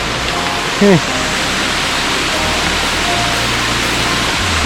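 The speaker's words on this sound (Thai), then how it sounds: "ในสุดเราก็ถึงน้ำตกตะเพินขี้น้อยแล้ว สวยมากครับตกนี้สวยจริง" Taphoen Khi Noi waterfall in Phu Toei National Park, in rain: a steady, dense rushing roar of falling water fills the whole clip at a constant level, with one brief chirp-like tone early on.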